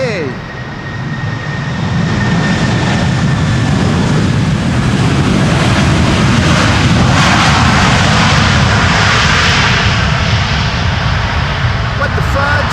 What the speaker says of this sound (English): we did get to hear the A330's reversing action